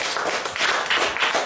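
Audience applause for a volunteer at a live comedy mind-reading stage show, a short burst of dense clapping from a crowd, fairly loud and steady.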